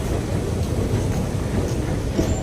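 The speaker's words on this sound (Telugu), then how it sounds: "ఇప్పుడు మన ట్రైన్ కూడా కోయంబత్తూరు జంక్షన్లోకి అయితే ఎంటర్ అవుతుంది" Sabari Express rolling into Coimbatore Junction, a steady low rumble of wheels and carriages that stays loud and even throughout, with no talking.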